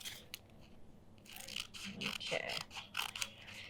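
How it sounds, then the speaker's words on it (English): Sewing scissors cut Steam-A-Seam fusible web for a quilt, giving a run of quick, crisp snips and scrapes close to the mic, and a voice speaks briefly. "I'm using my sewing scissors to cut my Steam-A-Seam too."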